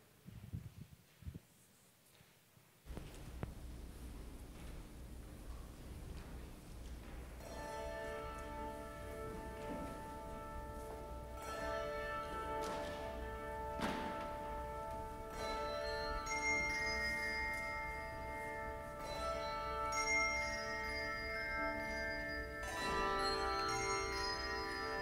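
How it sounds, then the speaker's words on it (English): Church bell choir playing the hymn Lord, Keep Us Steadfast in Your Word during a worship service, sustained ringing bell tones layered in a slow melody, soft and reverberant after a quiet start. "I invite you to give your attention to the bell choir as they play for us,"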